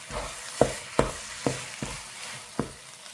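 A spoon stirs curry in a pot, giving about six quiet scraping knocks at uneven intervals over a faint background hiss, with no talking.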